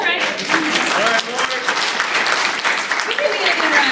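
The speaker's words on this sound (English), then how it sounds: "Y'all can clap, it's all right." Audience at a talk on homelessness in Wilmington, NC applauding, dense clapping from a room full of people, loud and sustained, with a voice speaking over it.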